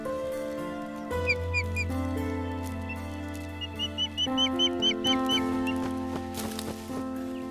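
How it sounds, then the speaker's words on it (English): Sharp, high whistled osprey calls come in quick repeated bursts over a steady droning background. "ospreys"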